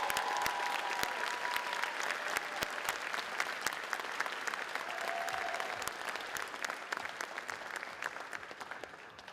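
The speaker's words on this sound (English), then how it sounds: "Can we give the valedictorians a round of applause for a very unique production?" An audience at a high school commencement ceremony gives the valedictorians a round of applause, with sharp individual claps over dense clapping that starts strong and slowly tapers off, and faint whistles or cheers mixed in.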